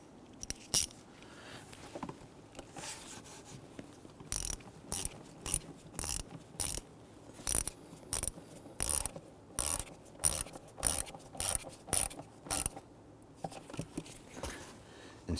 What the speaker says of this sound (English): Now with the throttle body, we want to go ahead and tighten down that clamp.